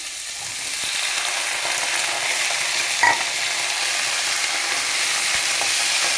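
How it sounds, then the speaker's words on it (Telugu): Cauliflower florets fry in hot oil in a pan, giving a constant broad sizzling hiss close by. A single sharp clink sounds midway, probably from a utensil touching the pan, and no voices are present. "ఇది ఒక పువ్వు తీసుకున్నాను కదా కాన్ఫ్లవర్ ఇది వేసేస్తున్నాను అందులో"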